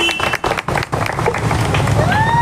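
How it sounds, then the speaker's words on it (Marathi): Audience applause welcoming the chief guest at a World Rabies Day event held by an animal welfare association, a dense burst of clapping with brief gaps early, then steady, with crowd murmur. "तरी त्यांचं सर्वांनी टाळ्या वाजवून स्वागत करा"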